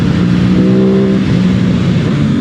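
A 2020 Aprilia RS 660 motorcycle with a quick shifter accelerating, a loud, close engine drone rising in pitch through the gears with no talk.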